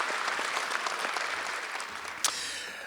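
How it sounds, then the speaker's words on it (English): An audience at an awards ceremony applauds a company CEO accepting an award; steady, moderately distant clapping with one sharper clap near the end. "Nice round of applause, Romeo."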